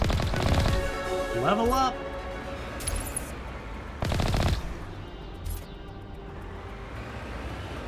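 A tank's main gun fires in the video game Mass Effect, with heavy broadband blasts around one and four seconds over game music and effects, plus a brief chime, with a voice calling out.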